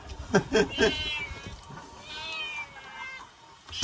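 A cat at a rural Thai home meows several times in quick succession, close and fairly loud, followed by a longer drawn-out meow, with faint background sounds and no clear talk.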